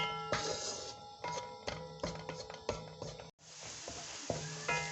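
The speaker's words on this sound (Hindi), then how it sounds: "ये उसको गोल्डन ब्राउन में कर लूँगी।" Chopped small onion frying in four tablespoons of oil until golden brown, a steady close sizzle broken by repeated scraping clicks of a spoon stirring through the pan, with one brief pause near the end.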